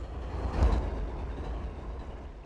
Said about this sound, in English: Why do I hear another train?